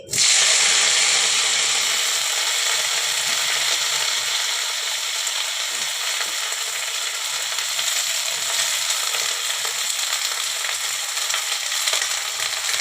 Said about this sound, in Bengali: এই যে আমি ফুলকপিগুলোকে ভেজে নিচ্ছি